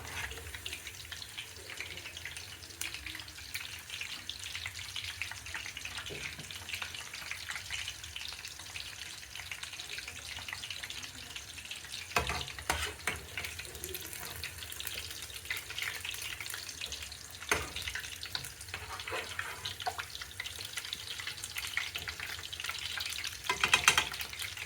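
Kebabs frying a second time in a pan of hot oil on low heat in a home kitchen, a steady close crackling sizzle that runs on continuously with small bursts and pops.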